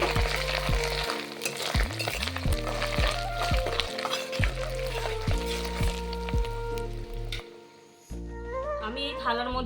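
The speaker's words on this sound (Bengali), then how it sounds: "আদাটাকে একটু ভালোভাবে ভেজে নেব" Ginger frying in a pan for wedding-style Bengali fried rice gives a steady sizzle with stirring, largely buried under loud background music with sustained tones.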